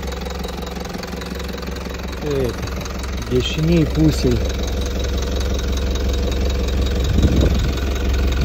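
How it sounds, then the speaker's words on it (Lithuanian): A 3.0-litre diesel Toyota Land Cruiser with 193,000 km idles smoothly, giving a steady low drone beneath someone talking nearby. "Variklis dirba gražiai."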